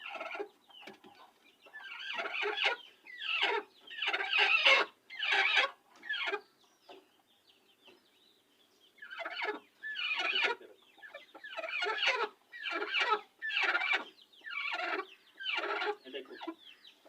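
A broody Misri hen clucks in repeated bursts of low, throaty calls close by, pausing briefly midway before resuming the steady, grumbling rhythm.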